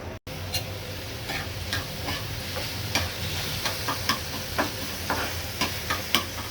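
Ridge gourd fries in oil under a lid in a pan, a soft continuous sizzle punctuated by small regular ticking pops and clicks.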